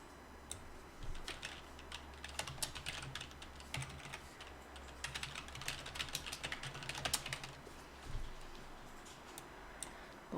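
Fingers tap on a computer keyboard in irregular bursts of soft, close clicks with short pauses between runs.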